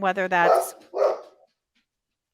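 A dog gives two short, close barks during a remote conversation, the sharp yaps clipped and sitting just after a brief spoken phrase, then silence.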